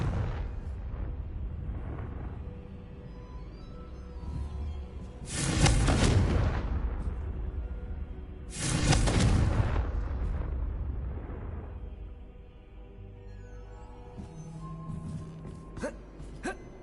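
Two loud, booming spell explosions from Confringo in Hogwarts Legacy, each a broad roaring burst that decays slowly, set against quieter game ambience with a faint voice.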